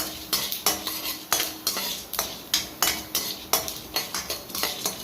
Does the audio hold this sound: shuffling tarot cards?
no